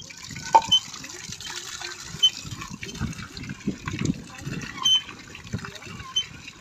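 Water runs and splashes while plastic is washed in a home kitchen, a steady uneven gush with soft clatters, and people talk over it nearby.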